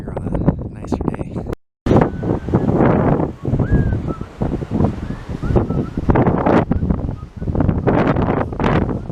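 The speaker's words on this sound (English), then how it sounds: "Sorry about the wind" Strong wind buffets the microphone on an open biodynamic farm, roaring in heavy gusts for nearly the whole stretch with a brief dropout, while a person talks intermittently beneath it.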